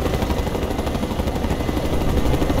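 An enemy helicopter in the Mercenaries 2 video game produces a dense, steady rotor roar mixed with battle noise, loud and continuous throughout.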